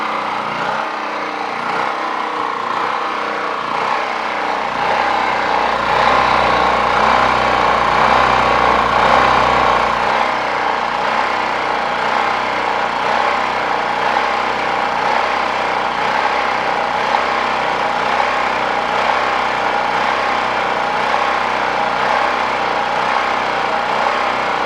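A small engine runs steadily with its choke wide open, a continuous loud drone with a slightly uneven, surging throb; a drill press is also running nearby.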